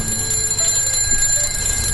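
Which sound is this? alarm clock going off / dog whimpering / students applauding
alarm clock going off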